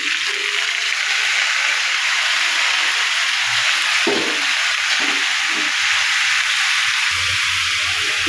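Red pumpkin pieces go into a hot pan of fried fish heads and yogurt, giving a loud, steady sizzle and hiss that runs throughout with faint clatter beneath.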